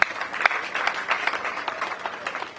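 A crowd at a funeral claps and cheers, a dense patter of applause sustained throughout at moderate loudness.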